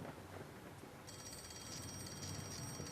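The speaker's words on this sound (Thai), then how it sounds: "โทรศัพท์ดัง" In a horror video game set in a hospital, a telephone starts ringing about a second in and keeps ringing continuously over quiet, murky background ambience. No one speaks.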